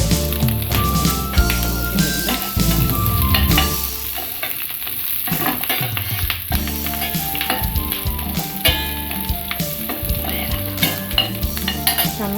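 Green chillies fry in a pan for mango pickle while being stirred, giving a crackling sizzle and utensil scrapes that sit under loud, continuous background music.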